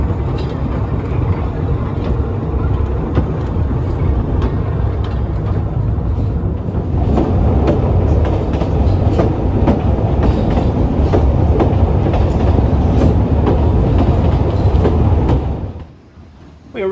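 Talyllyn Railway steam train Sir Haydn pulling out over the Dolgoch viaduct, a loud steady rumble and rhythmic clatter of carriages that builds slightly, then drops away sharply near the end.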